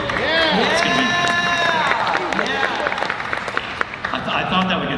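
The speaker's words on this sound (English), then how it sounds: "I thought that would get some applause." Theme park crowd applauding and cheering near a roller coaster track being repainted green, dense clapping mixed with crowd noise and a voice over it throughout.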